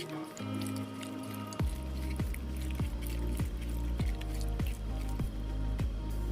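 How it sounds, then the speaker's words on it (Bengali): Half a kilo of chicken is worked by hand with a packet of chicken 65 masala, giving wet, rhythmic squelches roughly every half second, close and moderately loud over a faint tonal background. "তারপরে সব মশলাগুলোকে খুব ভালোভাবে মাংসের সাথে মাখিয়ে নেব।"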